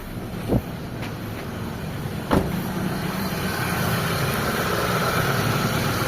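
A Mitsubishi Lancer's steady low engine idle rumbles close by after sitting unused a long time, with a couple of brief clicks or knocks early on and no voices.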